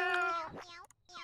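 Cat meowing in the video game Raise a Floppa 2, one drawn-out, clear meow close up followed by a shorter rising second meow after a brief pause.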